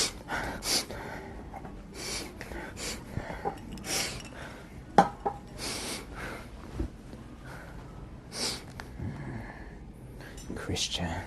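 A person sniffing at a plate in a bar, with short nasal sniffs and breaths mixed with faint clinks of dishes and cutlery, heard amid ongoing talk and murmuring.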